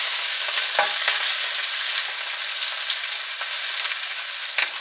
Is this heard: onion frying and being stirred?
yes